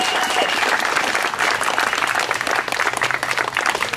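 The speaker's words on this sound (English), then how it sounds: "Huge round of applause." A crowd of campaign volunteers applauds steadily for about four seconds, a dense continuous clapping close by with no speech over it.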